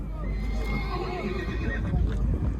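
A horse neighs in a wavering whinny amid a noisy crowd at a livestock market in Kyzylorda, with people talking in the background.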